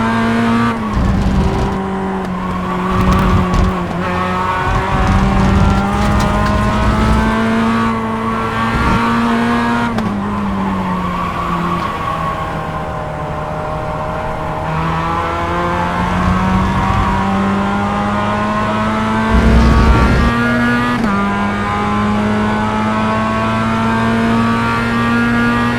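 Mazda race cars in the iRacing Global Mazda 30-minute sim race, engines revving steadily and shifting through gears, with rising and falling pitch and other cars passing close by throughout, loud and continuous with no talk.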